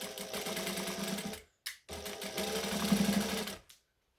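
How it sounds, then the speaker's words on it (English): An overlocker stitching along the frayed edge of a jacket pocket, a close, fast mechanical whir that runs, stops briefly, restarts and then cuts off. "So this is also quite frayed along this edge, so I will be overlocking this."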